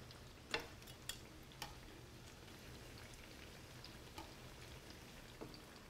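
Zucchini flowers fry in hot oil in a home kitchen, a faint, steady crackling sizzle with a few sharper pops and ticks scattered throughout, no voices over it.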